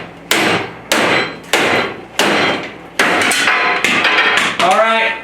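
A Milwaukee cordless tool is chopped apart with a series of about seven loud, evenly spaced heavy blows, each a sharp crack with a short decay.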